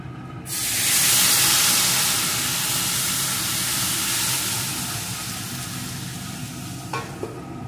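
Thickened milk comes to a simmer in a pan for semai payesh, a loud steady hiss and bubbling that swells early and then slowly fades, with a few light clinks near the end and no talking.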